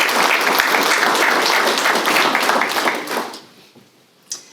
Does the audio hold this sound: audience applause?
yes